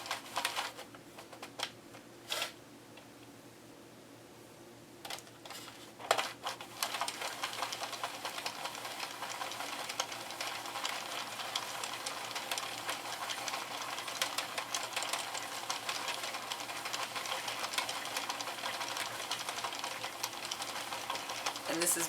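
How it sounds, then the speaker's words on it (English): A Sentro mini knitting machine is cranked while tube knitting, giving a steady stream of rapid plastic clicking and clattering that starts after a few scattered knocks, with a person talking at points. "when you're cranking this machine, you're pushing the crank away from yourself when you're tube knitting"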